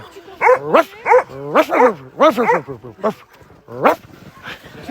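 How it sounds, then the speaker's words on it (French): Several dogs barking and yipping excitedly in a cold snowy setting before going for a run, a series of close, loud barks in bursts with short gaps. "Ils sont beaux ces chiens."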